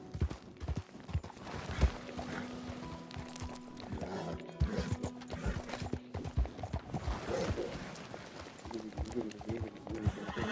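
A horse gallops in Red Dead Redemption 2, with rhythmic hoofbeats close by that mix with a voice talking.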